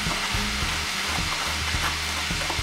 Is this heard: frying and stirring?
yes